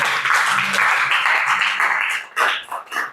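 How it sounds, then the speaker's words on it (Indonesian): Classroom audience clapping together for student group presentations, a dense, steady burst of hand claps that fades and breaks into scattered claps near the end. "Tepuk tangan dulu."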